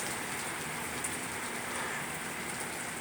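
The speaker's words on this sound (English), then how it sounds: "And the hailstones are gonna just stop like that." Hailstones pour down outdoors near a parking lot in spring, a dense, steady hiss and patter that keeps going without a break.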